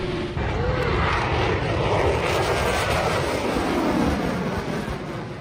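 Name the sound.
F-22 Raptor jet flying at Oshkosh Air Show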